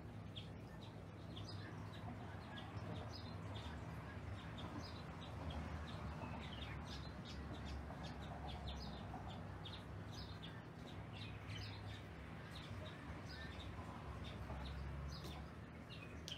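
Birds chirp and call outdoors in steady light high-pitched bursts across the whole stretch, over a constant low background hum with wind chimes mentioned nearby.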